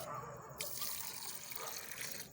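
Water pours out in a steady, splashing stream to fill a drinking spot for a thirsty animal, close and moderately loud, running continuously for a couple of seconds with no talking.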